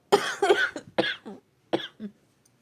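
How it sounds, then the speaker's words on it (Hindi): A person with a cold coughs several times in short, close bursts, with brief pauses between the rough, throaty hacks. "अभी खांसी वांसी हो रही है"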